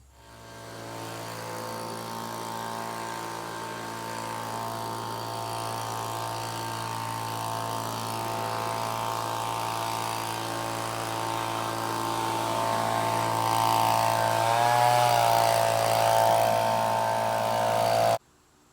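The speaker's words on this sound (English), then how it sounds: "first we blew the driveway off with a leaf blower to get the dirt and leaves and whatnot off" A leaf blower clears dirt and leaves off a driveway, running as a steady, loud engine drone with a whining tone that swells and wavers near the end before cutting off abruptly.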